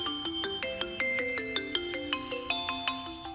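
A mobile phone ringtone for an incoming call plays a quick melody of bright, repeating electronic notes, clear and close with nothing else heard.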